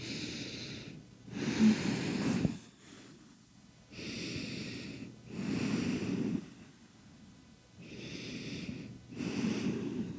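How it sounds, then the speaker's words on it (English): Slow, deep breaths taken during a kneeling side stretch for posture, with about three long airy inhale-exhale cycles, close and fairly soft, separated by quiet pauses. "breathing into that armpit area, kind of looking under and breathing 3 slow breaths"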